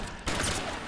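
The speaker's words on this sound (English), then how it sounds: "He shot me quite a bit." Gunfire in a noir-themed video game, a sudden dense burst of shots breaking in partway through and continuing loud and steady to the end.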